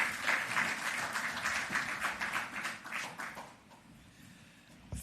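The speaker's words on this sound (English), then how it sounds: "So now that you've been practicing the applause, please welcome Dr. Wayne Robinson." An audience applauds to welcome a speaker at a World Bank report launch, with dense clapping that stays loud, then thins out and fades over the last seconds.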